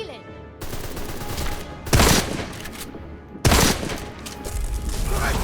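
Heavy bursts of gunfire ring out as a character shoots at a ceiling in Deadfall Adventures, loud rattling volleys with two sharp, powerful impacts cutting through the dense, sustained shooting.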